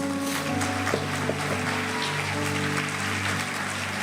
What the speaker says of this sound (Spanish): ¿Le puedes dar un fuerte aplauso al Señor Jesús?